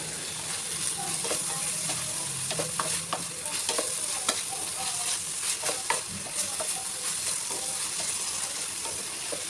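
Onion pieces with salt frying in a pan for a prawn and raw mango curry, giving a steady, close hiss and sizzle broken by frequent clicking stirs and scrapes, with no talking.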